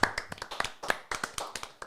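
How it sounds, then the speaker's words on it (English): A small group clapping in short, uneven bursts of sharp hand claps, close and fairly soft, with brief pauses between the rounds and no talking. "I feel like you need an applause for that."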